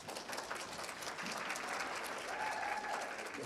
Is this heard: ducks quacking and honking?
no